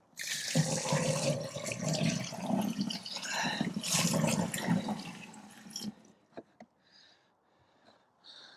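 Water gushes and splashes into a plastic car-wash rinse bucket with a grit guard, a loud continuous rinse that stops abruptly, followed by a few faint drips and clunks.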